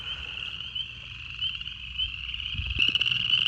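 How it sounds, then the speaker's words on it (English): Spring peepers and chorus frogs call together in a wetland, a dense continuous high chorus of trilling with a louder, closer peeper rising near the end, and no talking. "Lots of peepers, chorus frogs."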